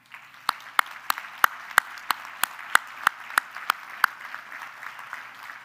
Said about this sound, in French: Ils méritent une bonne main d'applaudissements.